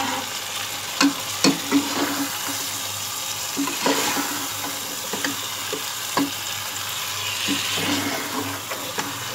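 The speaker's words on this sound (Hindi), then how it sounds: "अब हम अच्छी तरह भूनेंगे तमाम मसालों को" Spices frying with meat in a pot for Mumbai-style masala biryani, a steady close sizzle broken by repeated scraping stirs and clinks of a spoon against the pan, with no talk.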